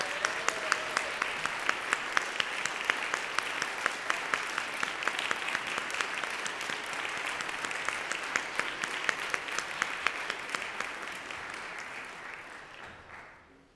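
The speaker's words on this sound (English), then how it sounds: "Let's give a round of applause." Applause from a concert audience at a fall fundraiser, steady dense clapping across the room that holds for about twelve seconds, then thins and fades out at the end; no one speaks over it.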